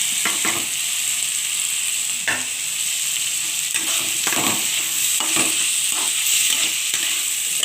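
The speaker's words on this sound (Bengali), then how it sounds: "আর এর সঙ্গে আমি চিংড়ি মাছ ভাজাটাও দিয়ে দিচ্ছি।" Fried prawns are stirred into sizzling mutton fat and spices for khichuri, a loud, hissing fry with recurring scrapes and clacks of the spatula, close up and free of talk.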